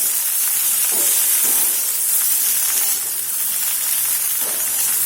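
Okra fries on a high flame with a steady, loud hiss of oil and escaping steam, close and unbroken, a few faint clinks underneath and no talk.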